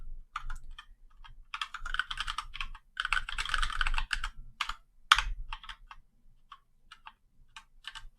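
Typing on a computer keyboard during coding, with close, quick bursts of key clicks in uneven runs, a few louder taps and short pauses between them.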